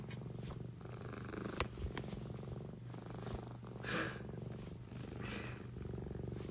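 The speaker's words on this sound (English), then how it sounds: "I don't know if you guys can hear him purring." A Sphynx cat purrs steadily and close up, a soft continuous rumble with a few brief rustles and sniffs over it.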